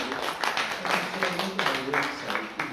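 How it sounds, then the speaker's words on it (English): Audience at a talk giving a round of applause, steady close clapping from a modest crowd that swells in waves, with voices mixed in. "let's also give a round of applause for Jamie because he's amazing"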